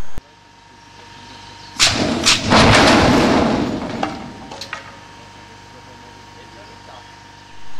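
Dust explosion inside an industrial chain conveyor fitted with explosion vents, fueled by a few kilos of dust: a sharp onset into a loud, roaring burst lasting about two seconds, fading with scattered thuds into a quiet hum.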